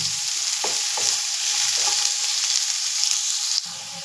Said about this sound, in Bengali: প্রথমে গাজরটা ভেজে নিচ্ছি